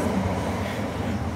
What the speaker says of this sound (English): Beautiful sound of a departing central line train there.